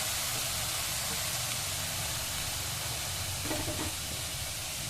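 Amla murabba, Indian gooseberry preserve, stirred in a pan over a low gas flame, giving a steady soft sizzle and hiss with faint scraping of the spoon, close and even throughout.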